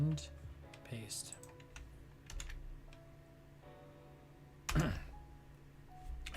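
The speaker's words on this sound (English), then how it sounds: "I need to bust out my nifty keyboard. We're just gonna do a little bit of copy and paste." Typing and copy-and-paste key presses on a computer keyboard, a run of close, light clicks and taps with a firmer thunk near the end, faint room noise behind.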